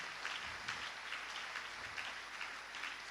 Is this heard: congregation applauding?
yes